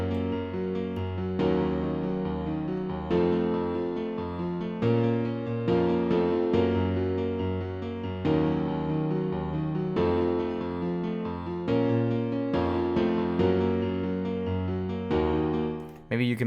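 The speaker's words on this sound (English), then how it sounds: "I'm gonna make another melody with the same piano, but I'm gonna do an ARP actually" A piano plays a steady arpeggiated melody, broken chords rolling note by note in an even rhythm, close and clear with no voices.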